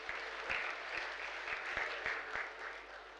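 At a Sufi shrine qawwali performance, a crowd claps steadily, with a few sharp, close hand claps standing out above the continuous applause.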